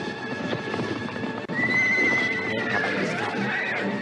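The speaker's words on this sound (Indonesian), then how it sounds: "Kuda-kuda mereka berlari dengan cepat." Horses gallop with a rush of clip-clopping hooves, and a loud whinny rises over the drumming, close and busy from start to finish.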